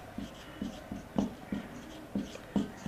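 Chalk or marker taps and strokes across a board during a chemistry lecture, a series of about seven short, evenly spaced scratchy strokes in a quiet room.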